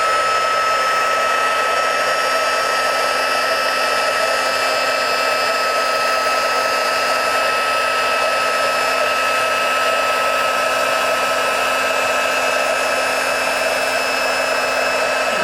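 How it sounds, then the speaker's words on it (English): An embossing heat tool blows hot air in a constant, loud whoosh with a thin whine above it. It runs without a break, close by, with no talking. "So I'm going to bring in that heat tool."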